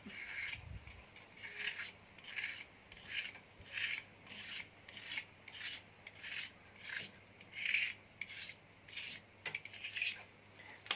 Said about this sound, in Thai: เอากับคือการใช้มีดขูดครับ